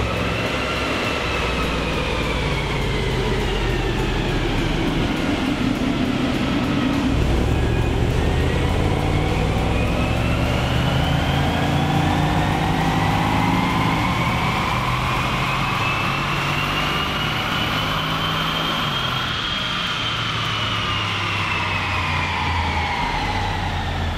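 Supercharged Jaguar Land Rover engine with an upgraded supercharger pulley, run on a dyno in fourth gear toward about 6,200 RPM: a loud, continuous engine roar and whine that dips briefly, then climbs steadily in pitch, with no talking.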